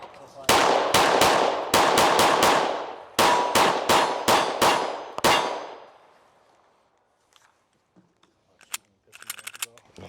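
A PSA Micro Dagger pistol fires a full magazine in quick succession, about a dozen loud, sharp reports with ringing tails, then silence broken by faint metallic clicks and handling noises.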